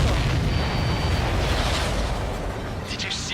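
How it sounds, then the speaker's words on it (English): Explosion in the aerial combat game Ace Combat 7, a loud broad rumbling blast sustained throughout and slowly fading, with voice chatter over it. "Did you see that explosion?"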